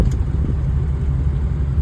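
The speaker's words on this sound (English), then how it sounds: "And put this thing in gear." A Ford F-350 Super Duty truck with an axle problem idles in gear and begins to creep, giving a steady, close, low engine rumble with no voices.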